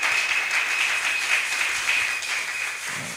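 A church congregation applauding during a morning service, dense sustained clapping from many hands at close range, steady and loud throughout with a faint tone above it.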